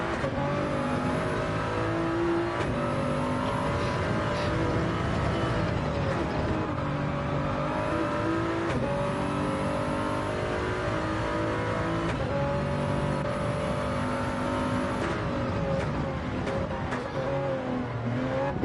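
Race car engine in a sim race, heard from the in-car view, holding a loud, steady drone with rising and falling revs as it accelerates and shifts, continuous throughout with no talk over it.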